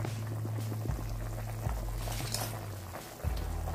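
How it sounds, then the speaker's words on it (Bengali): Fish curry boiling in a pot on a home kitchen stove, a steady close low bubbling rumble with a few soft knocks and thuds, no talking. "দেখি বন্ধুরা মাছের ঝোলটা কত দূর হলো, একটু দেখে নি। মাছের ঝোলটা হয়ে গেছে।"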